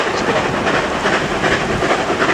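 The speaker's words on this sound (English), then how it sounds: "that's L94, the steam engine pulling the carriages" Steam locomotive L94 on the Dartmouth Steam Railway pulls carriages, a loud, continuous rumble and hiss of the train passing close by.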